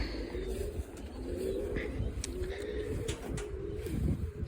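Soft, low cooing from sport pigeons repeats steadily over a constant outdoor background, with a few faint higher chirps from other birds.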